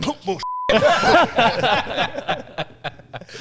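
A short, steady censor beep tone cuts in briefly during a podcast conversation, set against chuckling and lively talk from the hosts.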